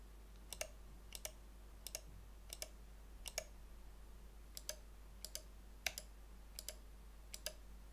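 Crisp, evenly spaced clicks from an Onyx Neos QG computer mouse, about a dozen single presses at a steady rhythm, close and quiet against a low background hum.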